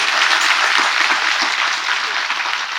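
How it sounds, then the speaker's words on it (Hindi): Loud, dense applause from a congregation honouring Mother Mary at an annual grotto feast day celebration, steady sustained clapping throughout with no voices over it. "हम सभी जोरदार ताली बजाकर माँ मरियम के आदर और सम्मान में ईश्वर को धन्यवाद दें।"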